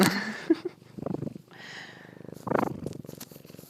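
A pet cat purring right up against a microphone, a close, rough rhythmic rumble that rises and falls in several pulsing bursts, with a few soft clicks and rustles between them.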